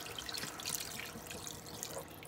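Saved curry water pours into a pot while Jamaican curry chicken cooks, a steady close splashing trickle with bright dripping and sloshing throughout, no voices.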